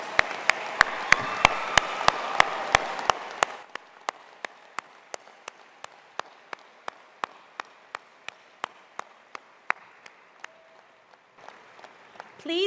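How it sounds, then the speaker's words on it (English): An audience at an honors college medals ceremony applauds first-generation college students: a dense burst of clapping for about three seconds, then thinning to scattered, evenly spaced single claps. "Would you give them a big round of applause?"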